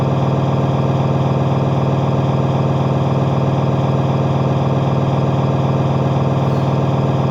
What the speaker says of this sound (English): the air compressor just went on again